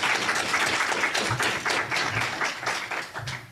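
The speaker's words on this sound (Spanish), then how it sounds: "les vamos a brindar un fuerte aplauso" An audience at a public security lecture series gives a hearty round of applause, individual claps distinct and rhythmic, fairly close and continuing steadily throughout.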